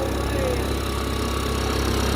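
A 170cc lawn mower engine runs steadily at close range, a continuous droning hum with a low rumble and even vibration throughout.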